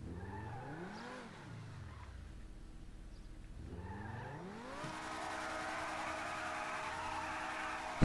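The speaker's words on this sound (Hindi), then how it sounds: "इस गाड़ी का साउंड एक बार सुनो, बहुत ही कैड़ा साउंड है।" A car in the GTA V video game revs up and down in rising and falling sweeps, then holds a steady high engine note under loud, sustained tire screeching and noise; no talk.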